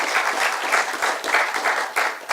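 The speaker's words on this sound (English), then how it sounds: "Let's give them all a round of applause." A crowd at a transportation summit in Carpinteria claps steadily for a couple of seconds, a dense wash of applause with slight swells, no voices rising above it.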